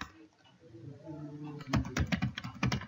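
Quick, uneven typing on a computer keyboard, a close run of sharp clacking keystrokes after a moment of faint background hum.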